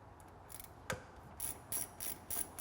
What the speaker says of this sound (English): Tighten up our lower bracket again.